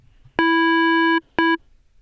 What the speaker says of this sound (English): let's say I was to add another sine wave that modulates that sine wave